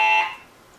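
Quiz show buzzer going off as time runs out in a trivia game, a loud, steady electronic tone lasting under half a second before fading away, with no talking.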